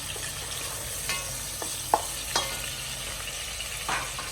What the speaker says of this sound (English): So that it cooks with the onions, it fries with it.